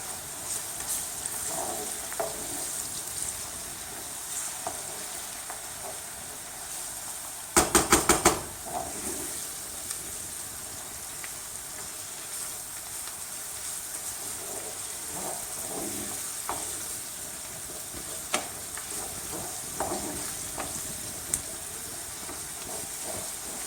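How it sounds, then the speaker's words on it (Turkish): Tomato paste stirred into frying onions in a pan gives a steady, faint sizzling hiss, with one brief clatter of a utensil partway through; no one speaks. "Güzelce salçamızı da soğanlarımızın içerisinde karıştırarak eritiyoruz"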